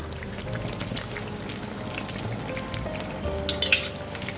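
Egg-battered eggplant frying in oil with a steady, close crackle and hiss that holds level throughout and swells briefly near the end, with no voices.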